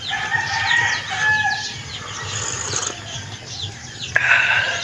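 Chickens and other birds call and cluck in the background outdoors in the countryside, with a rooster crowing amid steady chirping.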